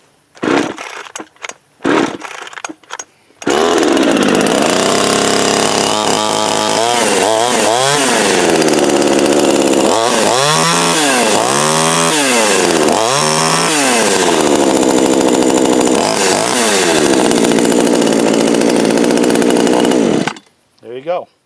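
A Holzfforma G372XT chainsaw gets a few short pull-start tugs, then catches and roars loudly, revving up and down repeatedly at close range before cutting off near the end.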